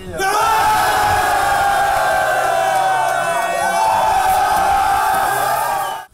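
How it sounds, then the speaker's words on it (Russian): A big, loud crowd of hockey fans at an airport welcoming a championship team, sustained roaring cheers and whoops filling the whole stretch at close range. "аэропорт был заполнен счастливыми фанатами, которые хлопали Сарарке и благодарили команду за победу"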